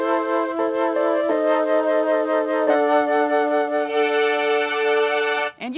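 Sustained synth tone from a Yamaha Montage6 using an extended LFO to mimic tape detuning, its pitch sagging and bending across steady held notes, loud and continuous with no talking.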